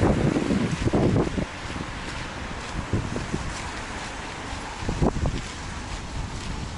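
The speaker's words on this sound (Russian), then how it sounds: "Да, ветрено сейчас." Gusty wind buffets the microphone in loud bursts, easing into a steadier rush between gusts.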